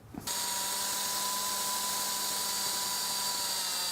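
A sanding disc on a power tool working over a hazy, yellowed car headlight: a steady, loud, high-pitched whirring hum that starts abruptly and runs unbroken.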